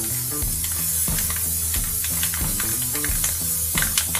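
White spray paint hisses from an aerosol can in short repeated bursts for dome-style spray paint art, loud and close, with rhythmic pulses over a steady low music bed.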